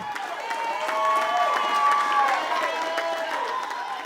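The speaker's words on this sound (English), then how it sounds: "greeted by a cheering crowd of friends and family" Friends and family cheer and clap as a man walks out of Promise Rehabilitation Hospital in Baton Rouge, a loud, sustained outdoor crowd with overlapping shouts and applause.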